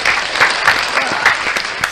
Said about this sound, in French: Hey, les applaudissements pour Ouri à la maison.